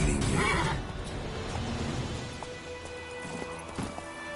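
Roach the horse galloping in The Witcher 3, a quick run of clip-clop hoofbeats at moderate loudness, loudest at the start and then settling under a steady game background.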